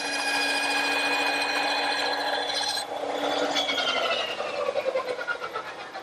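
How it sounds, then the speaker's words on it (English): A small dovetail hand saw cuts tenon shoulders in wood, a raspy scraping with a faint tonal ring that settles into quicker back-and-forth strokes toward the end, close and without speech. "I think this little dovetailing saw is more accurate."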